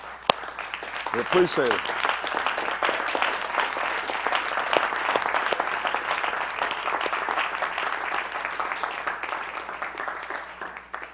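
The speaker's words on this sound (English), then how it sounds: "Give Miss Yahuah her hand clap." Church congregation giving Miss Yahuah a round of hand claps, a dense, steady patter of applause lasting several seconds with a brief spoken voice near the start.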